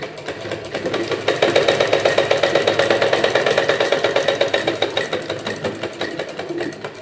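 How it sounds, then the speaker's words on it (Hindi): A sewing machine stitches a pleat into a 38-size princess-cut blouse, its needle running in a steady, fast mechanical rhythm, close and fairly loud with no talk over it. "सिलाई को डबल कर ले यहाँ से और फिर इसे तिरछा करते हुए इसकी सिलाई लगाएं"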